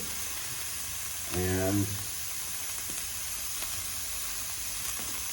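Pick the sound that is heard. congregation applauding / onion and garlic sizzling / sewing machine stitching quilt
onion and garlic sizzling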